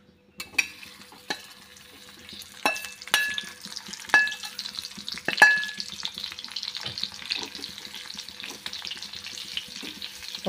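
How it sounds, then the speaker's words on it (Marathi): Okra (bhindi) frying in hot oil in a wok while being stirred, a steady sizzle with repeated scraping clinks of the spoon against the pan, close and without talk. "मस्तपैकी तेलावरती परतून घ्यायचे आहेत."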